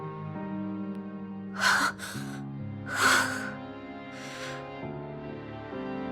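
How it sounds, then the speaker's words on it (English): A girl's ragged, gasping breaths in the NieR Reincarnation video game, two or three strained inhales over a sustained musical drone, close and moderately loud. "Her breathing remains ragged, her footing unsteady."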